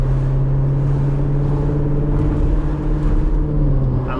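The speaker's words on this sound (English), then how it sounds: "I'm also gonna be using the paddle shifters here in track mode, basically driving manual without the stick shift." Corvette Z06 engine under paddle shifting in track mode, a loud, steady close-up drone with sustained low tones and small pitch changes, no talk over it.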